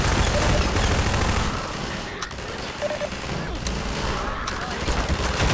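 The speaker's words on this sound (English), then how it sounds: "having, like, a sky laser just shoot down upon me" A sky laser weapon, the suppression device in the game Half-Life 2, fires in a sustained, loud roaring barrage of crackling blasts that runs without a break, with faint voices in the mix.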